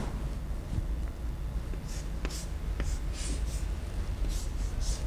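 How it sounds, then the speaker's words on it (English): A chemical structure drawn by hand during a chemistry lecture: short, repeated pen or marker strokes, close and fairly quiet, over a low room hum. "Let me draw properly that compound."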